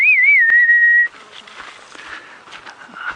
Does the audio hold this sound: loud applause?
no